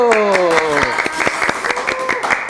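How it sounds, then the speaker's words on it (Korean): People in a studio applaud a regional director's 30-year service anniversary, scattered sharp claps from several hands under cheerful overlapping voices and a brief rising vocal whoop. "큰 박수와 함께 불을 끄겠습니다. 박수!"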